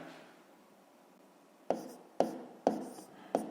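A pen scratches out figures on paper while long division is worked, first a soft stretch of faint rubbing, then four sharp, evenly spaced strokes heard close up with no voice over them.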